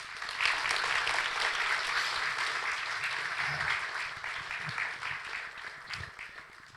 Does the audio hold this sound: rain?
no